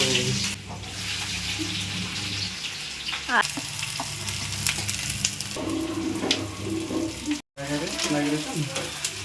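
Onions frying in a hot pan in a home kitchen, giving a steady loud sizzle throughout with brief clatters and a short dropout near the end.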